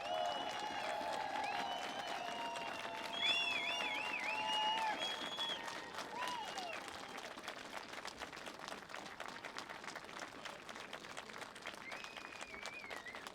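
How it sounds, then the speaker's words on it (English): Crowd applause at a rally for a national champion college football team, the North Central Cardinals, a broad wash of clapping that runs throughout, with some tonal sounds and voices over the first half. "Please give them all of your applause."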